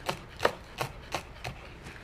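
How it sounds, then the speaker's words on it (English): A knife coarsely chops green onions on a cutting board in a kitchen, giving six evenly spaced, crisp taps against the board, close and moderately loud with no talking. "So you're just gonna coarsely chop these green onions or chives."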